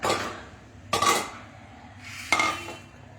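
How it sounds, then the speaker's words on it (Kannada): A metal mixing bowl is picked up and handled in a home kitchen while oil heats for frying, giving three sharp clanks with ringing tails, close and fairly loud, with no talking. "ಈಗ ಒಂದು ಮಿಕ್ಸಿಂಗ್ ಬೌಲ್ ತೊಗೊಂಡು ಮಿಕ್ಸ್ ಮಾಡ್ಕೊಳ್ಳೋಣ"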